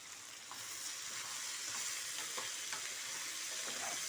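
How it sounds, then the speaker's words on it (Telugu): Half-boiled broad beans dropped into a frying pan for a tangy curry, giving a loud, even, continuous sizzle with light stirring, close up and with no voices. "మనం హాఫ్ బాయిల్ చేసుకున్నాం కదా చిక్కుడుకాయ, పప్పు చిక్కుడుకాయ ఉండేది, ఇది వేసేస్తున్నాను."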